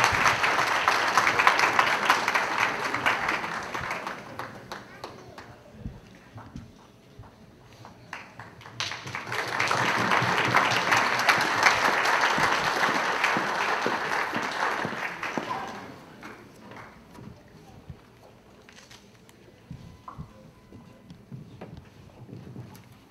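A dinner audience applauds to welcome a speaker, with two long swells of clapping that rise, hold and fade. Quieter scattered claps and murmuring fill the gap between them and trail off at the end.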